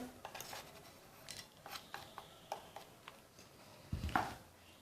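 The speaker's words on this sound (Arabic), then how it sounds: "الآن سأقوم بغربلتها في هذه المصفاة" A fine homemade tooth-whitening powder of ground ingredients is worked through a small strainer, giving soft, irregular metallic scrapes and taps, with one louder clatter near the end.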